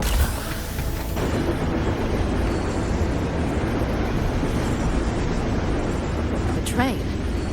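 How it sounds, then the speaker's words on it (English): Night City train in Wuthering Waves rumbles past, a dense continuous roar with a heavy low-end wash and a brief squeal near the end. "The train? What's a Night City train doing behind a door?"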